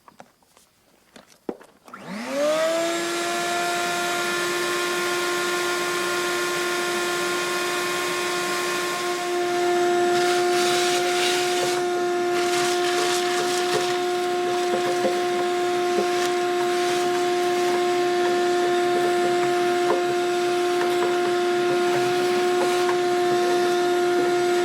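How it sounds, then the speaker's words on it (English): A shop vac starts up and runs while vacuuming grease out of a grill, a loud, steady whining hum with a clear tonal pitch, its sound shifting slightly as debris is sucked in partway through. "the best way to clean it is to get a shop vac that I've found and vacuum all this out"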